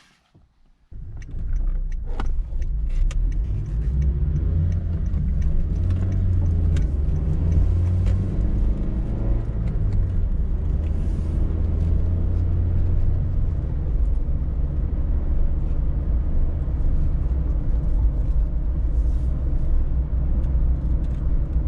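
A Honda Fit (Jazz) GK5 on a test drive, heard from inside as a steady, loud low road-and-engine rumble that builds in the first seconds and holds throughout, with no talk.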